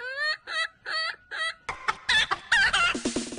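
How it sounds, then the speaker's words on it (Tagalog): US Silkie chickens, fluffy bantam-type fowl kept on a farm, cluck and call in a quick series of close, fairly loud notes, one bird after another, with no talk over them. "Ang US Silkies Chicken."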